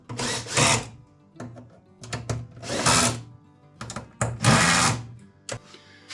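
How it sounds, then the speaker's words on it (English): A power drill drives screws to secure an electrical box for a remote control installed on a Massey Ferguson GC2300 tractor, three loud whirring bursts separated by short pauses and small handling clicks, close to the microphone. "all I need to do is secure the box with some screws at the back"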